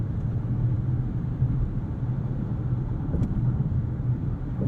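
A Lexus LS500's engine and road noise rumble steadily from inside the cabin as it carries speed into a curve in Sport Plus mode, a low continuous drone with no talking.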